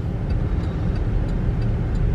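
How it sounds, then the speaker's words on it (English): Road traffic rolling past, a steady, fairly loud low rumble of passing vehicles with no break in the noise. "A lot of traffic, but it's not horrible."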